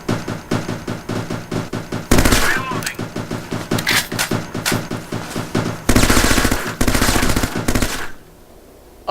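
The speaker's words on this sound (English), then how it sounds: "Uh-oh, a big chunk of the building just fell away." Rapid automatic gunfire in the video game Breach rattles in steady bursts, broken by loud crashing impacts as chunks of a building collapse, then fades to quiet at the end; a voice speaks faintly beneath.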